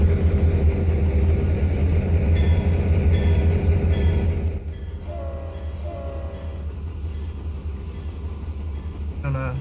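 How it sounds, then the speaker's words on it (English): A short charter train passes on a coal-country route in the T:ANE train simulator, with a steady low rumble and a few horn-like tonal bursts, the roar easing off partway through. "he's meeting a charter train that's passing him there"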